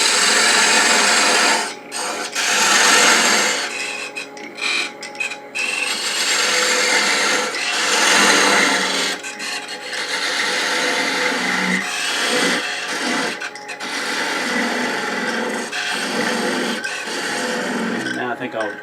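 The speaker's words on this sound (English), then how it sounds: "I'm going to use a fluted parting tool." A continuous harsh scraping roar of a fluted parting tool cutting into spinning wood on a lathe, making a wooden baby rattle, with brief dips where the cut eases off.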